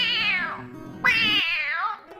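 A cat in a Hindi children's cartoon story gives two loud, clear meows close up, the second rising sharply and drawn out before trailing away.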